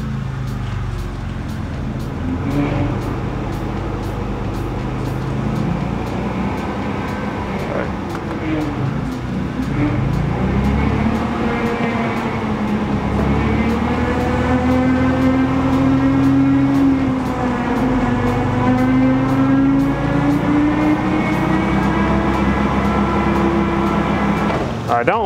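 A turbocharged V6 Honda runs on a dyno fitted with a new belt, a steady loud engine and roller drone whose pitch rises and wavers as it speeds up, with a voice talking over it at times.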